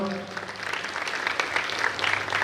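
Audience applause welcoming a guest on stage at a community award ceremony, a continuous wash of clapping from a sizeable crowd, fairly close and steady throughout.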